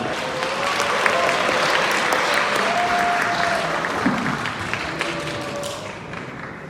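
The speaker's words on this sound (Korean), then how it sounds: "우리 신랑님의 축가를 박수로 맞이해 주시기 바랍니다" Wedding guests clap steadily to welcome the groom's surprise song for the bride, a broad moderately loud wave of applause with a faint tone of music beneath, fading toward the end.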